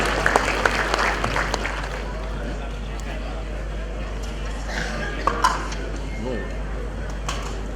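An audience applauding in Zaverchand Meghani Hall in Bhavnagar at a municipal civic ceremony, steady clapping with a few sharper claps standing out.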